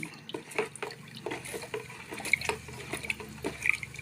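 The second component of a hydroponic AB fertilizer mix is poured into water, giving close, uneven splashing and trickling with scattered drips and small clinks, with faint voices in the background.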